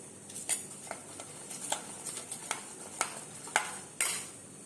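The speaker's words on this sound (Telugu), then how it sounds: "ఇప్పుడు దీన్ని రాగిపిండిని ఉండలు లేకుండా కలిపేసుకోవాలి" A utensil stirs ragi flour in a bowl to mix out the lumps, giving a series of light, irregular clinks and scrapes, close and fairly quiet.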